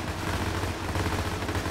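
Dense battlefield gunfire from a Warhammer 40k UEBS2 game battle, a continuous rolling wash of overlapping shots with no talking.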